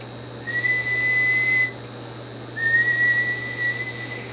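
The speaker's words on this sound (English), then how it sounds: "And it's whistling to about 700" A Hallicrafters HT-45 amplifier, keyed on air on the bench, gives two clear steady test-tone whistles, each lasting about a second, over a low constant hum with no talk.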